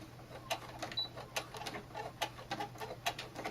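A sewing machine back stitches on a clutch bag, a faint quick series of light mechanical ticks and taps against a low steady hum, close by, with no talk.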